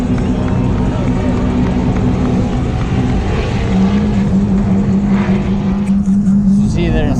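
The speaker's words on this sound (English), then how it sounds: "There's somebody going now on the burnout box." A car doing a burnout on the burnout box at a large Texas car show, its engine droning steadily and loudly amid crowd noise and voices, with a sustained high rev tone building in the second half.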